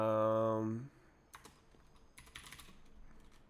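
Fingers tap quick bursts of keystrokes on a computer keyboard, soft and close, after a short hummed or sung tone at the start.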